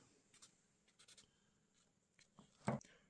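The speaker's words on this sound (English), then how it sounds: "I do the Sharpie noise" A Sharpie marker scratches across a paper bag puppet, quiet and close, a few short scattered strokes followed by one louder squeaky stroke near the end.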